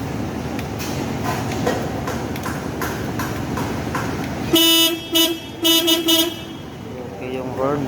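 A Toyota Altis horn, tested by powering its relay directly during a no-horn clock spring repair, blares in several loud bursts of uneven length after a stretch of engine and workshop noise. Someone talks over the start.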